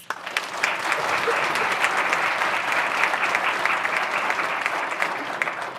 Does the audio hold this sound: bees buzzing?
no